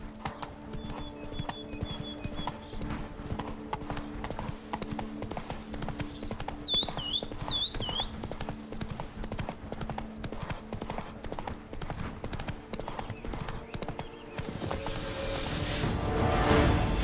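Horse Roach's hoofbeats from The Witcher 3: Blood and Wine, a steady rhythmic clip-clop over game music, with a few bird-like chirps midway and rising noise at the end.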